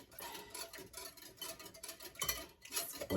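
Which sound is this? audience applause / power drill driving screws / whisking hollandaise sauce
whisking hollandaise sauce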